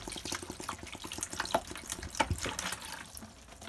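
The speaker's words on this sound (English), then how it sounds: "I'm going to put some water in it so I can flush it for you guys." Water is poured from a container into a Thetford toilet inside a trailer, giving a quiet, close, continuous splash and gurgle with a few brief drips.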